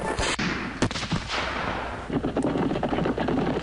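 Gunfire and artillery in the Civil War strategy video game Civil War Generals 2, sharp booming shots and volleys at irregular intervals over a rumbling battle bed, loud and without talk.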